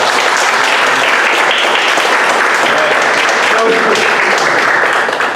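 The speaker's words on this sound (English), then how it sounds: "let's just give a warm round of applause for the beginning" A theatre audience at a school play showcase applauds steadily and loudly throughout, a dense, continuous wash of clapping with no pauses.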